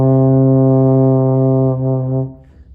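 A baritone horn sustains a single steady C, a rich brassy tone held for about two seconds before tapering off, played solo and close with no talking.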